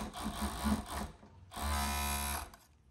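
Sewing machine stitching a shirt seam to set in a sleeve, running in two steady motorized bursts with a short pause between, close and fairly loud, no talking.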